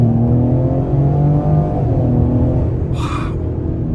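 A 2022 Ford Explorer ST in normal mode pulls hard from a rolling start on throttle alone, a loud, steady engine roar with rising harmonic tones filling the cabin, plus a short hissy burst near the end.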